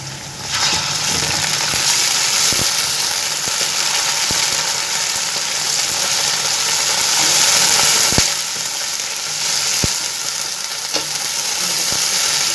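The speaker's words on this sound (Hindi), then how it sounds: "हम चिकन को फ्राई करेंगे जब तक इसका कलर चेंज नहीं हो।" Chicken pieces fry with light-browned onions in a hot pan, a steady loud sizzle throughout with occasional stirring clinks and scrapes, no voices.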